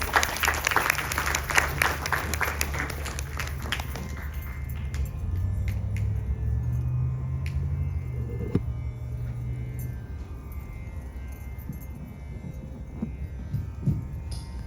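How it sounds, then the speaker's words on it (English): An audience at a Sri Ganesh Chaturthi Utsav night applauds for Panaji Narad Gosai, a burst of clapping at the start that quickly fades into low hum and murmuring crowd noise. "Please give him a huge round of applause"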